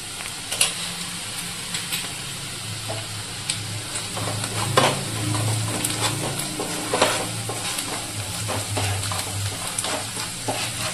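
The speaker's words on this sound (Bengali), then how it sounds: "পেঁয়াজ হালকা ভাজা হয়ে গেছে" Onions frying lightly in a pan, seasoned with salt and a little sugar, for a chicken chop: a steady, close sizzle with a spoon or spatula scraping and clinking at irregular moments, no voices.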